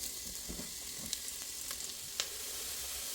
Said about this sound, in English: We add our onions, and we're just gonna cook those down low and slow.